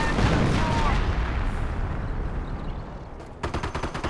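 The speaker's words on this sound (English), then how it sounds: "Artillery running on in, Pioneers do fall back. Good mortar hit there." Artillery and mortar fire in the World War II strategy game Company of Heroes, a heavy continuous barrage of booms and gunfire rumbling throughout, with sharper rapid reports near the end.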